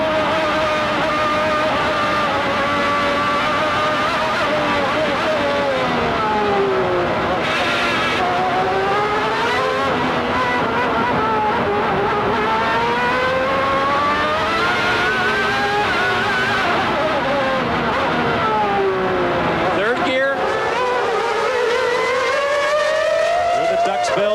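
1995 Formula One race car engines scream at high revs, pitch rising and falling through gear changes and corners, with a commentator talking over the roar.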